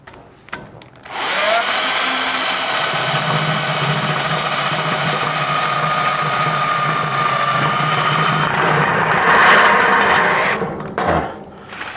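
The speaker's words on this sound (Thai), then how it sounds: "ดูว่ามันได้ขนาดแล้วเราก็ใช้สกรูยิงเข้าไป" A power screw gun drives screws into metal roof sheeting, giving a loud, continuous motor whine that holds steady for about nine seconds before winding down, with a short start at the beginning.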